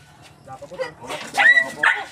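A dog gives a few close, sharp yelping barks in quick succession, with a couple of louder high-pitched bursts near the end over faint background voices.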